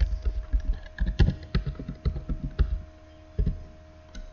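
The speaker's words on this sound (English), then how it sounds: "you're going to type in SSH root, space root at that IP address" Rapid clicking keystrokes on a computer keyboard while an SSH root login command is entered into a terminal, with irregular bursts of taps, a few heavier key strikes and short pauses, close and clear with no talking.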